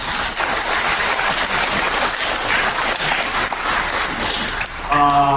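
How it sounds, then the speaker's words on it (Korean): Sustained applause from a large congregation at a Korean memorial church service, dense and even, lasting several seconds before a voice begins to speak at the very end. "큰 박수 한번 해주시기 바랍니다"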